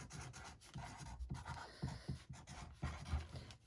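Pen or marker scratching and rubbing across a fabric busy bag, a run of short close strokes with small pauses between them, with no talk.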